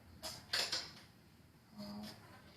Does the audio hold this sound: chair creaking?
yes